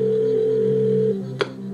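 Telephone dialing tones from the Who Wants To Be A Millionaire Second Edition PlayStation game, a steady electronic tone sequence lasting over a second, followed by a brief sharp click, heard alone without talk.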